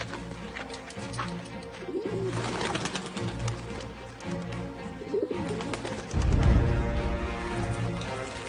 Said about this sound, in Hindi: अपने सारे पंछी संदेश लेके अगेस्ट फोर्ट भेज दो।